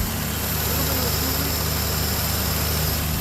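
A small gasoline engine of a French car with automatic choke idles steadily up close, a continuous low rumble with mechanical rattle and no pauses.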